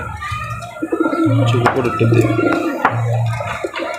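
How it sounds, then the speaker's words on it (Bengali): A large pigeon cooing close by in repeated low, droning phrases with short gaps, over a background of soft rustling and faint bird sounds. "এই যে নটটা, এটা সাইজ অনেক বড় সাইজ, তাই ওকে নাম দিয়েছি বল কবুতর"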